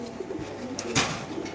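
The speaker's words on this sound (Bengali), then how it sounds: "মাশাআল্লাহ খুব সুন্দর বড় সাইজের এক জোড়া কবুতর" A pair of large racer pigeons gives soft, low cooing close by, with a brief rustle midway, all within under two seconds and no talk.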